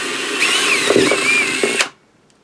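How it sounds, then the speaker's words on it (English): A power drill with an extended bit whirs steadily for nearly two seconds while drilling a hole in a starship replica model, its pitch dipping briefly as it bites in, then stops abruptly, leaving silence. "I'm using an extended drill bit because it's a little bit of a reach."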